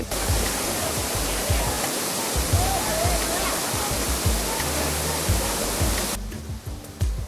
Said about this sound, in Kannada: ಹಾಲ್ನೊರೆಯಂತೆ ಧುಮ್ಮಿಕ್ಕುತ್ತಿರುವ ಜಲಧಾರೆ